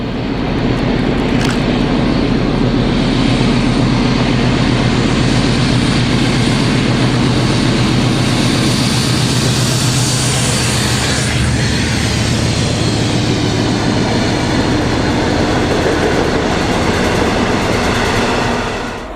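British diesel locomotive 56311 hauling empty fly ash wagons passes at Hinksey in February, its engine roaring loud and close throughout with the rumble and clatter of the train continuing steadily.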